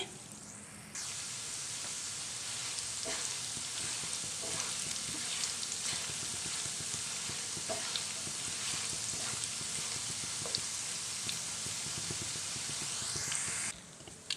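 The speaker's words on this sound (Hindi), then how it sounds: "मसाले को 2-3 मिनट फ्राई करेंगे।" Ground coriander and cumin fry with chicken and garlic in a pan, giving a soft, even sizzle that holds steady throughout, with occasional light crackles and faint stirring taps.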